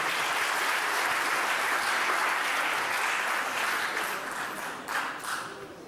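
An audience at a commemorative event applauds, producing a broad, steady wash of clapping that fades toward the end, with a few distinct claps near the close.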